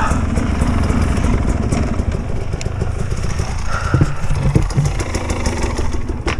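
A 2023 Sherco 300 SC Factory motorcycle engine runs loud and close, a steady throaty rumble with clattering mechanical noise and slight revving, no talk over it.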